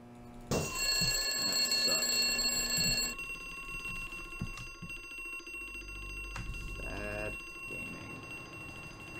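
Alarm bell ringing in the video game Harvester, a loud metallic ring that starts abruptly and rattles for a few seconds before cutting off, followed by quieter game sounds and a short burst of noise.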